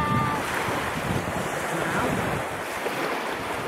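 Ocean surf washes onto a beach in a steady, broad rush of breaking water mixed with gusty wind buffeting the microphone, loud and continuous with no distinct pauses.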